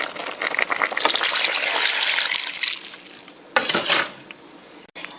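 Liquid and ingredients, including plantain boiling water, pour into a hot pot for Haitian bouillon with a rushing splash and sizzle, then a second shorter pour near the end.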